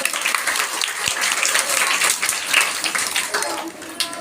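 Audience applause welcoming Pakistan's Prime Minister Imran Khan onto a stage, a steady wash of clapping lasting the whole stretch, with a few voices faintly underneath.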